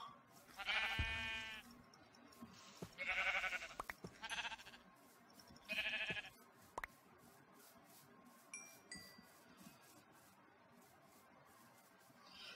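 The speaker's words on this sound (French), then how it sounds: "oh, mouton" Sheep bleating in the Minecraft video game, four distinct bleats in the first half, close and clear over a soft game background, followed by a few faint chimes.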